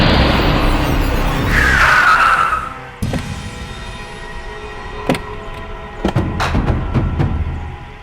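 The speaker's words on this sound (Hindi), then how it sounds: "गाड़ी भगा।" A car revs loudly and pulls away with a screech of tyres, the engine noise fading over a few seconds, followed by a couple of sharp thuds like doors shutting and faint clicks.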